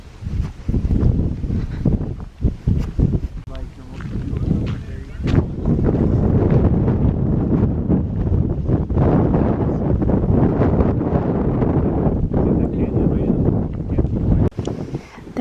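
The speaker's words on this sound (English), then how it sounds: "It's kind of windy right now though, so I'm cold." Gusty wind buffets the microphone outdoors near a hot spring, a loud low rumble that surges and drops unevenly throughout, with faint rustling mixed in.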